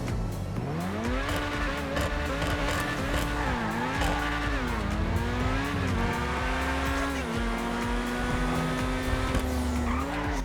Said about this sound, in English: just listen to the startup of this thing. It sounds great, man. Let's have a little rev.